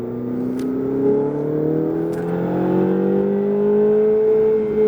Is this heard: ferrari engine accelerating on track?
yes